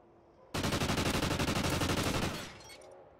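A single loud, continuous burst of rapid automatic gunfire in a video game, starting abruptly and hammering steadily for about two seconds before trailing off into a short echoing tail.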